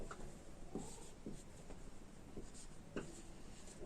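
Pen or chalk writing out an electron configuration during a Class 11 chemistry lesson on chemical bonding, heard as a run of short, close scratchy strokes with brief pauses between them and no talking.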